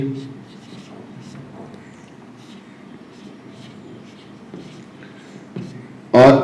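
Chalk or marker scratching out a circuit diagram on a board during a physics lesson on inductors, soft continuous writing strokes with a louder tap or scrape near the end.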